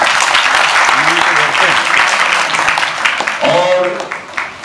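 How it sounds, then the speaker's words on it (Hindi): An audience at a cancer student patients felicitation event applauds loudly in a continuous burst of clapping, while voices carry over it and a speaker's voice rises near the end. "तो ताली बजाइए।"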